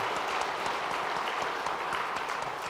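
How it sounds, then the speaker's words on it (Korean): A church congregation claps to welcome a newcomer during a Sunday worship service, a brief steady patter of applause from the room. "잠깐 자리에서 일어나 주시면 저희가 박수로 함께 환영하도록 하겠습니다"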